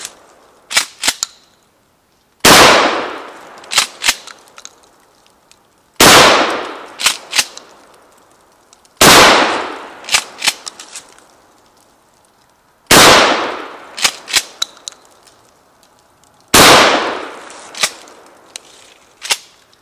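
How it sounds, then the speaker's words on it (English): A 20 gauge shotgun loaded with number 8 shot fires through a chain-link fence outdoors: six loud, sharp blasts spaced a few seconds apart, each followed by a short decaying echo. "I'm gonna try the number 8 shot through the fence at this angle, see what happens."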